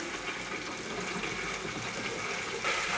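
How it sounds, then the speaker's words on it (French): Water gushes and fills a reef aquarium's drain pipe as the filtration pump restarts, a steady loud rushing and gurgling that continues throughout and surges slightly near the end. "il y a ma descente qui est en train de se remplir"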